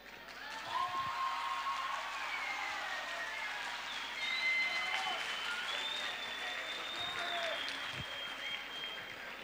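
An audience at a green school event in Italy applauds to welcome a speaker, steady clapping filling the room from start to finish, with faint voices and whistling beneath.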